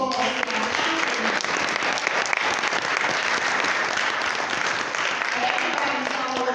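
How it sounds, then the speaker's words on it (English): A crowd at a Black history event in a city hall chamber gives council members a sustained round of applause, a dense, even roar of clapping that stays steady throughout. "So join me in a round of applause for our councilmen."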